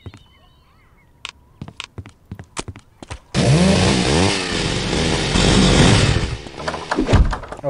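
A chainsaw in Postal 2 starts after several sharp clicks and knocks, then roars loud and close, its engine revving and bogging in surges before cutting back to scattered clunks.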